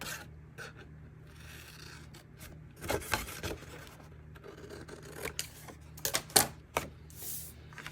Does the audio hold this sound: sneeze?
no